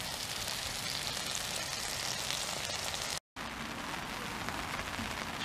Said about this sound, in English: Now I'm cooking some bacon.